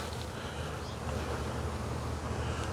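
Bees swarming around a regular beehive set on two concrete blocks, a dense, continuous buzzing drone heard close and steady with no talk.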